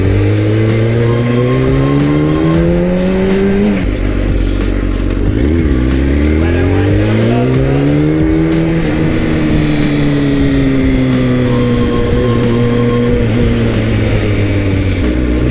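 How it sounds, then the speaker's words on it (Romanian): A big motorcycle engine is revved hard again and again, its pitch climbing with each twist of the throttle and dropping back between pulls, loud and close. "Chestia aia când tragi de accelerație pe un motor de ăsta mare, parcă e altceva."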